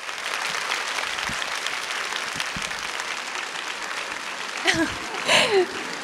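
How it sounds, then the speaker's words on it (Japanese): Audience applause greets the stage appearance at the 36th Tokyo International Film Festival. A steady wash of clapping fills the hall, and a voice briefly cuts in near the end. "皆様、大きな拍手でお送りください"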